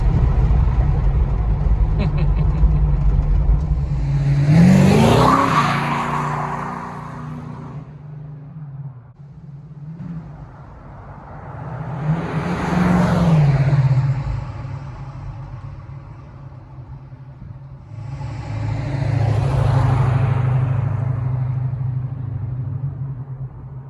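A 1972 Plymouth Satellite Sebring Plus engine runs with a steady low rumble, swelling in three broad waves of revving and then settling back, while a voice talks faintly in the background.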